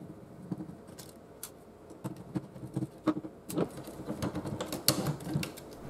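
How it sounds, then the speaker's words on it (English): Quiet small clicks, ticks and metallic taps come from unscrewing screws on an NEC CD-3010A CD-ROM drive, irregular and close, with brief bursts of fiddling noise. "there are more screws to remove"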